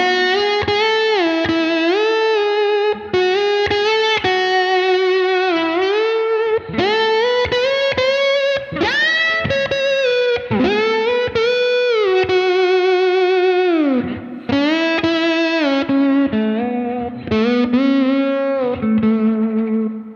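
Electric slide guitar played through effects with distortion and chorus, sliding between sustained, singing notes in a continuous melodic line with bends and glides, loud and close with no talking over it.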